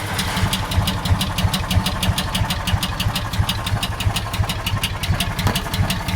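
A John Deere Gator 4x2 utility vehicle engine on a cold start with a hard-start and idle fault chugs at a rough, low idle nearby, a steady rapid pulsing throb with no voices.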